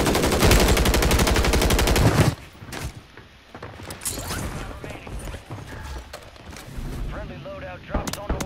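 Rapid automatic gunfire in Call of Duty Warzone (Modern Warfare 3) for two seconds, then scattered single shots, clanks and mechanical reload sounds with voices in between.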